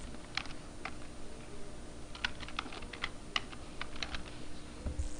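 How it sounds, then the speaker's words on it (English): Someone types a username and password on a computer keyboard, faint scattered key clicks in short bursts with pauses between them against quiet room tone. "go ahead and type your username and password in here."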